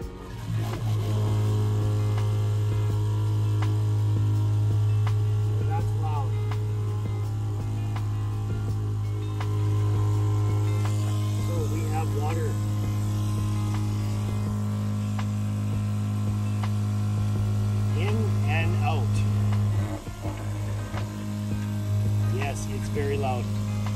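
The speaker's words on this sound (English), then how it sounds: "we are going to see if we have the pump in working order" A small motorized pump drones steadily with a strong low hum, running continuously and fairly loud, while people speak faintly in the background.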